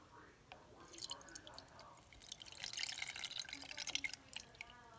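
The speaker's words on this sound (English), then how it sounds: "pour it into the strainer." Pulpy tamarind liquid pours through a strainer, a soft trickling and dripping patter that grows busier midway, close and fairly quiet.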